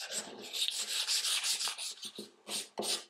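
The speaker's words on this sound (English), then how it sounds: "This board you can really sand as little or as much as you want to get the desired look." Sandpaper rasps back and forth across a wooden board in close, steady strokes, then breaks into a few shorter, separate scrubs toward the end.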